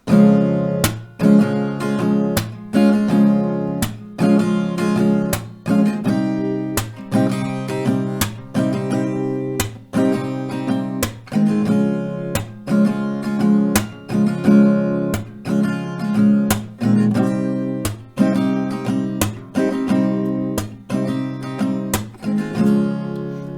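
Acoustic guitar strummed in a steady rhythm, with sharp hand claps punctuating each bar, played alone without any talking; an acoustic arrangement of a song.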